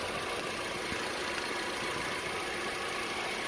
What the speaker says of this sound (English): So I did replace the belt also, so there is a noticeable difference in the quietness of the motor.